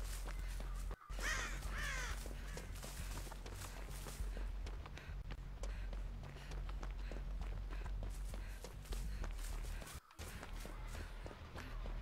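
Crows caw repeatedly in Dead by Daylight, harsh calls rising over running footsteps and a steady low rumble of ambience, with a brief dropout near the start and another near the end.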